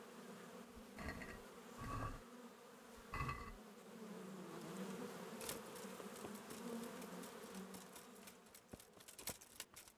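Bees hum around straw beehives in the Kingdom Come: Deliverance video game, a steady buzzing swarm with a few louder thumps and clicks over the drone, no speech.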